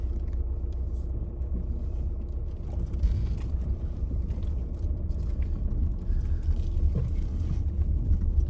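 A car crawls slowly over large stones on a rough off-road track in Sarthal Valley. Its engine is a steady, close, low rumble throughout, with the tires grinding faintly and nobody speaking.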